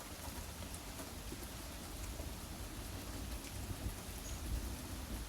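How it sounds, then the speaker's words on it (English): Steady rain pours down in a dense, continuous hiss, with no voices or other distinct sounds above it. "Can you hear the rain?"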